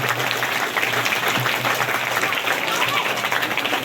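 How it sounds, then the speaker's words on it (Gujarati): An audience at a school admission festival for new pupils claps steadily and densely throughout, with a voice audible over the applause. "તો આપણે જોરદાર તાળીઓથી અમને વધાવીએ"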